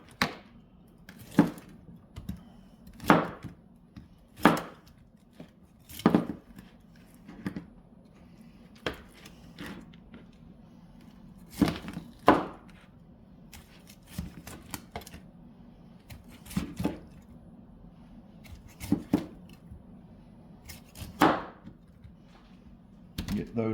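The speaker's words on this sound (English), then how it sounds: "Now we're going to cut the rack that we put the rub on." A knife chops through a grilled, rubbed rack of ribs on a board outdoors in winter, a series of sharp irregular knocks spaced a second or two apart over a low steady background hum.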